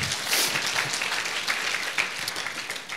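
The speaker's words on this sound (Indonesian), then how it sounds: "Berikan tepuk tangan kita untuk Tuhan kita." Church congregation clapping during an online worship service, a lively crowd of hands with scattered sharper claps and faint cheers, steady and fairly loud from start to finish without speech.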